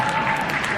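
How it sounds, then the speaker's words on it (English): Audience applause at a high-performance growth mindset talk, a dense steady wash of clapping from a crowd, fairly loud and continuous for a brief moment with no one speaking. "Round of applause, please, for the man."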